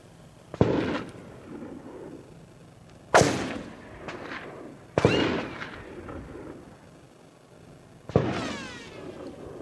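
Gunshots from people firing guns nearby, four sharp loud cracks spaced a couple of seconds apart, each ringing out with a short echoing tail across open ground.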